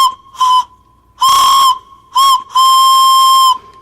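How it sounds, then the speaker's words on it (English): A wooden train whistle is blown in five loud blasts of varying length, short toots alternating with longer sustained ones. Each blast has a clear, steady, hooting tone with breathy hiss, separated by quiet gaps. "I found my wooden train whistle"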